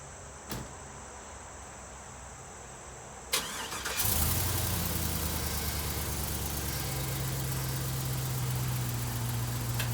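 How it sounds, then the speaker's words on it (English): A 1951 Hudson with a swapped LS V8 cranks briefly and fires, settling into a loud, steady rumbling idle close by, with crickets chirping in the quiet background before it starts. "So there's nothing left to do but drive the car."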